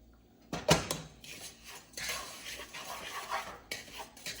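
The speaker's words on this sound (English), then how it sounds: "We're gonna get our butter and our brown sugar and regular sugar combination mixed together" Butter, brown sugar and white sugar being mixed in a bowl for a pecan peach bread pudding, with a sharp utensil clank near the start followed by steady scraping and stirring close by.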